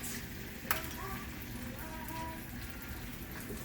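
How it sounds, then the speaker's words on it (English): An egg fries in a pan with a steady crackling sizzle, a soft continuous hiss with one sharp pop near the start. "Got a nice sizzle to it."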